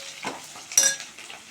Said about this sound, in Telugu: ఆనియన్ పచ్చిమిర్చి కల్లేపాకు వేసుకున్న తర్వాత ఒకసారి కలుపుకుందాము.